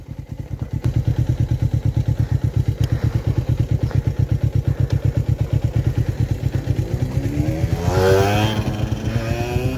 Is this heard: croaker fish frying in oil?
no